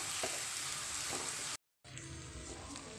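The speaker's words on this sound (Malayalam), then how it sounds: "ഇനി നമുക്കിത് നന്നായിട്ട് മിക്സ് ചെയ്തെടുക്കാം" Broken wheat upma sizzles steadily as it is stirred in a hot pan, a close, continuous frying hiss with a brief cut of silence in the middle and no talking.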